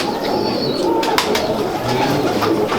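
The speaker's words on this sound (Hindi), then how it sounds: "मैं डबल कबूतर का शौक करा रहा हूँ" Pigeons coo steadily in a noisy loft, with a few brief bursts of wing flapping and scattered chirps over constant background noise.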